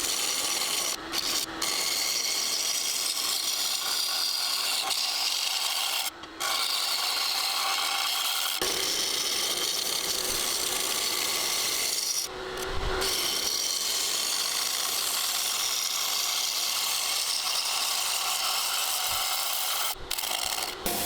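Steady rasping scrape of a gouge cutting spinning cherry wood on a lathe, continuous and close, with a few brief pauses between easy passes.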